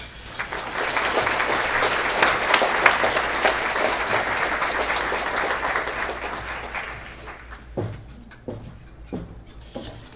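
Warm applause from a breakfast audience at a school, dense and sustained for several seconds, then thinning into a few scattered claps and room noise as it fades.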